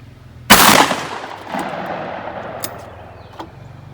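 A single loud 10 gauge shotgun blast firing a 1.25 ounce sabot slug, its boom decaying into a long rolling echo across open ground, followed by faint clicks.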